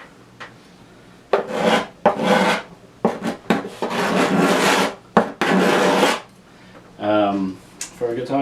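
A steel card scraper edge is stroked against a sharpening surface in repeated back-and-forth bursts, each a scraping, rasping rub lasting about a second, with short pauses between and brief talk near the end.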